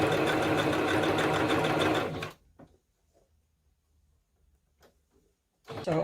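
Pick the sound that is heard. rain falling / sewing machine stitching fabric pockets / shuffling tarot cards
sewing machine stitching fabric pockets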